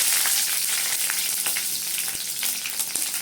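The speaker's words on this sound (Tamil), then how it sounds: "கருவேப்பிலை, தக்காளி இதெல்லாம் போட்டு வதக்கிறாங்க." Green chilies, urad dal and mustard seeds fry in hot oil for semiya upma, giving a steady close hiss and crackle with occasional stirring scrapes and no voices.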